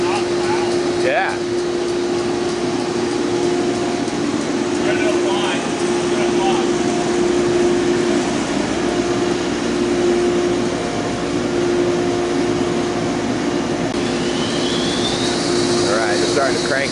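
A sawmill blade cuts white oak, a steady loud drone with a constant tonal hum throughout, while people talk intermittently over it.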